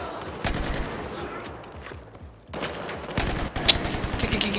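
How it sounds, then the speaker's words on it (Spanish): Gunfire in Battlefield 4: bursts of rapid automatic shots alternate with single sharp cracks, moderately loud with a brief lull in the middle, while a player talks over it. "Púrale, desde acá te disparo."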